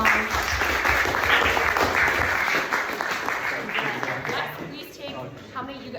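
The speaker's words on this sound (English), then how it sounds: "everyone give them a round of applause" An audience at a hackathon demo session applauds with sustained dense clapping, loud and close at first, then gradually thinning and fading toward the end.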